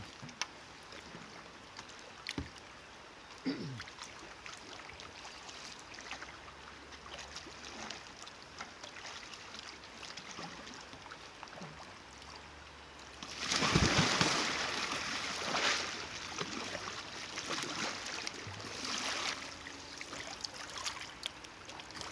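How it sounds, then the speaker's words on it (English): Splashing and churning water from a kayak rear deck roll, a quiet lapping backdrop broken by a loud surge of splashing and water rush midway that settles into dribbling runoff. "I'm going to show you one more. It's called a rear deck roll."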